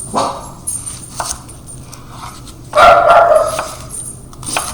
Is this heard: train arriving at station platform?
no